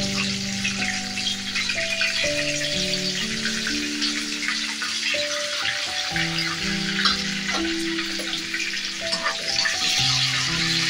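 Onions sizzling in hot oil with cumin seeds in a pan for an egg curry, a continuous crackling fry heard alone with occasional stirring, with faint musical tones running underneath.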